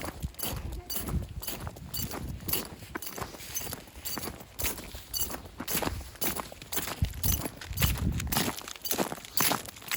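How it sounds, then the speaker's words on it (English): Footsteps crunching on a winter walk in New Hampshire with jingly ice cleats, a steady walking rhythm of close, crisp impacts with faint metallic jingle throughout. "My jingly cleats. Sorry if you don't like the sound of them."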